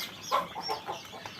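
Chickens inside a coop give a few short, soft clucks and squawks spread over a second and a half, faint and close with no talking.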